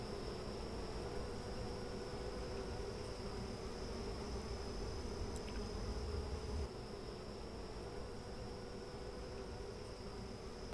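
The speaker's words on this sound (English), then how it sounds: "you want there to be almost like a tornado of bees inside the cup" Honey bees swirl inside a clear plastic cup, a dense, steady buzzing drone that stays faint and unbroken throughout.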